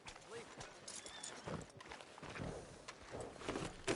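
Horse hooves clip-clopping in Red Dead Redemption 2, a steady walking rhythm of moderate loudness with voices talking over it throughout.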